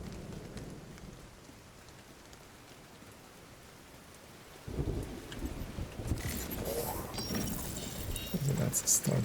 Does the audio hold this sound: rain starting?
yes